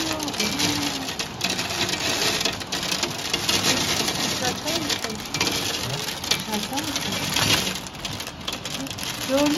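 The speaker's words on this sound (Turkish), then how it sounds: "Yağmur yağıyor, görüyor musun?" Heavy rain pours down in a steady, dense hiss that fills the whole stretch, with chirping birds and people speaking over it.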